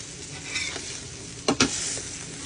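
Seafood sizzling steadily in a hot frying pan, with two sharp scraping clatters near the middle as pieces are flipped over, then the frying continues.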